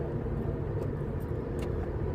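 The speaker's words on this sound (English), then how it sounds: "I'm coming on the merge lane right now, and it's nothing but traffic" A car merging into dense highway traffic produces a steady, loud roar of engine and road noise that continues without a break.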